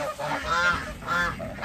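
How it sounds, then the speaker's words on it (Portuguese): A goose honks loudly and close up on a small farm, giving three or four harsh, nasal calls in quick succession. "Pera aí, ganso. Já tô entrando. Ganso fica maluco"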